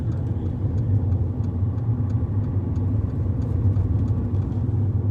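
A learner's adapted driving-lesson car pulls away under throttle, its engine and road rumble holding steady and fairly loud, with no talking over it.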